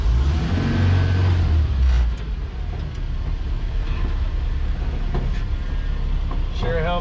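A 1966 Toyota Stout truck on a Toyota 4Runner chassis rolls forward, with a loud low engine rumble that eases slightly partway through and a steady drone throughout, while someone talks over it.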